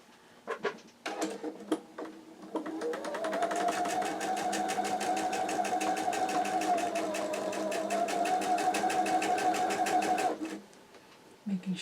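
A sewing machine stitches pieces of a quilt block. A few short clicks and starts come first, then a steady, close, rapid mechanical whir runs for about eight seconds before it stops.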